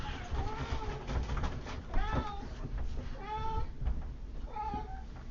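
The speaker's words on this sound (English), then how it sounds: "Cats. They're the best. They just keep whining." Cats whine and meow insistently for food, several drawn-out, rising and falling meows following one another close by over a low background rumble.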